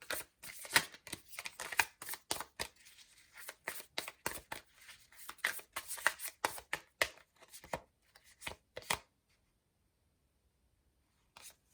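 Tarot cards are shuffled and pulled in a quick run of crisp, close riffles, slaps and snaps that stop abruptly, followed by several seconds of near silence and one last faint tap.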